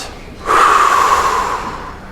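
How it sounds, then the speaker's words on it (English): A room full of people breathes out together after a deep breath in, one long broad exhale that swells quickly, holds for about a second and a half and then slowly fades. "Everybody, join me in taking a nice big breath in. Breathe out."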